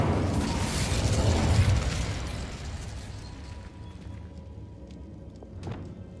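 The Incendio fire spell cast in Hogwarts Legacy: a broad, roaring burst of flame swells up loud at the start, then fades into a softer crackling tail with a small pop near the end.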